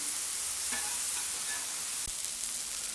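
Smash burgers sizzle steadily on a griddle, a continuous close hiss with a few faint clinks and one soft knock, no voices.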